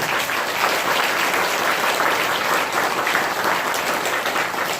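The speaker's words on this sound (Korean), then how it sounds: "모두에게도 박수 한번 보내주십시오" Steady, dense applause from a sizable crowd at a Buddhist temple service, continuous and loud throughout with no pauses.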